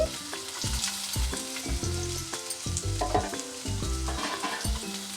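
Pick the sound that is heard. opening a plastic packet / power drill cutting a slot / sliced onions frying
sliced onions frying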